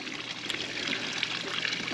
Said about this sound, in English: Meanwhile, I have the fiberglass patio waterfall.